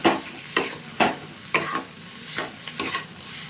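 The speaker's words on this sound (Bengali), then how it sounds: "ভালো করে মিশিয়ে দিচ্ছি।" A spoon stirs potato filling for kochuri in a pan over a soft sizzle, making a run of loud, regular scraping strokes about every half second, close up and without talk.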